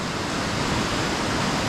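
Steady rushing water of a Dartmoor waterfall fills the clip, a broad even roar of falling water with no other sounds.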